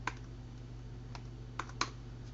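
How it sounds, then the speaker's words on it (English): Faint computer keyboard keys tapped while entering a password, a few sparse clicks spread over a couple of seconds against a steady low background hum. "I type in my password"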